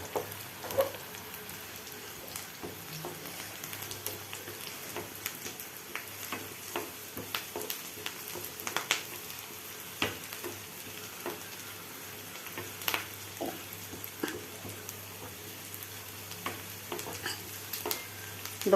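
Chana dal frying in a pan for tomato chutney, with a steady low sizzle and scattered crackles and pops alongside intermittent stirring scrapes, moderately quiet and close, with no voices.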